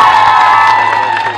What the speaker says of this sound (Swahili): Jipigieni makofi sana